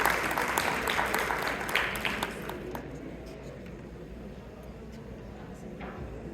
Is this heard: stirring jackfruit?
no